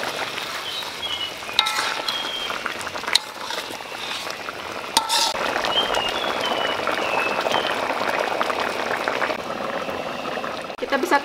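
Water poured into a pot of chicken soup with chicken feet, a steady splashing, bubbling stream running close and fairly loud for most of the stretch, with a few sharp clinks of utensils against the pot.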